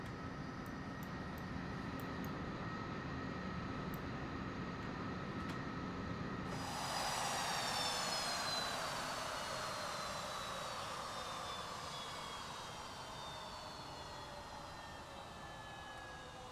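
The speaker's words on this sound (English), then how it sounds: "we'll hear how this thing shuts down finally." SR-71 jet engines shut down in Microsoft Flight Simulator 2024, a loud, steady roar that sweeps downward in pitch and slowly fades over several seconds with no speech.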